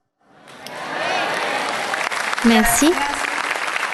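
A church congregation applauds steadily through a French-language evening service, the clapping swelling and holding at a moderate level while a voice briefly speaks over it.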